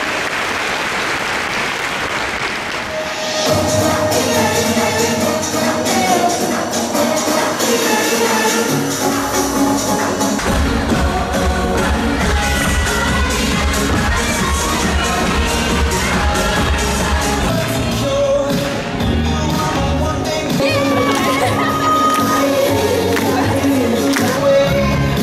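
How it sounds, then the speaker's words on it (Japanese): An audience at Yamato University's 10th anniversary ceremony applauds steadily over music after a quieter opening, the dense clapping continuing loud and unbroken for the rest of the stretch. "拍手でお見送りください。"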